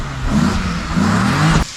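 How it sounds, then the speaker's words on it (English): A single-turbo BMW E46 M3 in a driveway revs hard for a high clutch kick, with a loud, sustained engine roar that cuts off abruptly near the end. "high clutch kick in the driveway"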